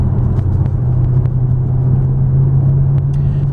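A 2010 Chevrolet Camaro SS with a 6.2-liter LS3 V8 and six-speed manual drives along a twisting road at about 50 mph, a loud, steady low engine rumble heard from close inside the car.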